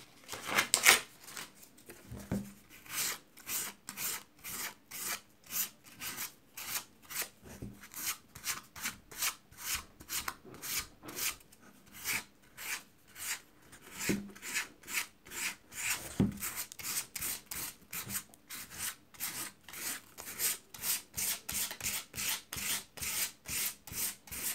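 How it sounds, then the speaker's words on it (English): A wooden shoe last sanded by hand with 400 grit sandpaper, heard as loud, close, rhythmic back-and-forth rasping strokes repeating steadily throughout, with no talking. "move on to more gentle sandpaper is grit number 400"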